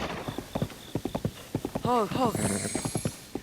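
A horse's hooves clip-clop in a rhythmic gallop across the ground in Zelda: Tears of the Kingdom, with a short whinny partway through and someone talking over it.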